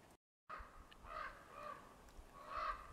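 Several crows give harsh, repeated caws at a winter camp among fir trees, fairly faint and some distance off, after a brief gap of silence.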